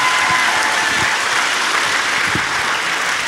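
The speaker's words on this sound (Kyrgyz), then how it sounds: "менин оң колум Самат мырзага болгон кол чабуулар болсун" Dense, loud applause from a concert audience at a stage anniversary show, steady unbroken clapping filling the hall for the whole stretch.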